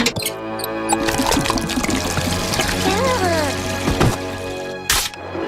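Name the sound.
oil being drained, liquid pouring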